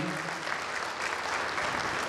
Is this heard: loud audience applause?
yes